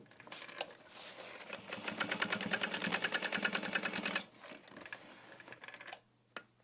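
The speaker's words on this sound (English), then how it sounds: "So I may just sew in a little bit further on this side." A sewing machine stitches a bucket bag in short bursts of rapid, even mechanical chatter, close by and clear, with brief pauses between runs and a final quick burst near the end.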